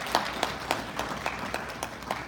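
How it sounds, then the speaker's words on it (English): Audience applause at a regular meeting, a brief burst of scattered clapping with distinct individual claps standing out at a moderate level. "let's give him a round of applause"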